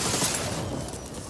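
Heavy gunfire in the shooter Helldivers 2 as a player fires on a large armored Hulk robot, a dense burst of booming shots fading out over about a second.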